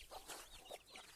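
Farm chickens and roosters let out of their coop cluck softly in short, repeated bursts, faint and close, with no talking.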